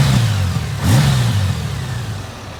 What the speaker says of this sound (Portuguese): existem motas com motores de 6 cilindros.